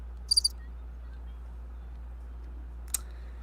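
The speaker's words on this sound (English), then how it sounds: "Were there crickets in here?" Faint, brief bursts of insect-like chirps, a quick triple chirp near the start and one more click later, set over a low steady hum with no talking.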